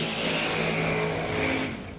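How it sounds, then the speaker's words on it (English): A loud race car roars past close by at a drag-style racing event, a steady powerful engine drone with a slight pitch shift as it goes by, fading at the end, no voices. "That's a loud car."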